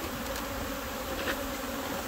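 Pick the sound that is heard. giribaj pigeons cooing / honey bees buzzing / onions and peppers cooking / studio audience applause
honey bees buzzing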